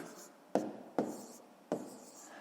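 A pen writes numbers by hand on paper in a math exercise, with three sharp strokes and scratches close up and no voice.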